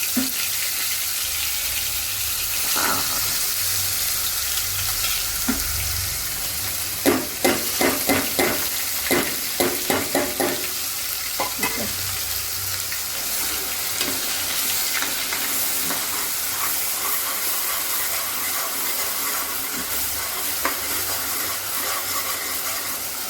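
Onion paste sizzling in hot oil with asafoetida in a pan for paneer masala, a loud continuous hiss with a burst of rapid spoon scrapes and clicks in the middle stretch, close up throughout.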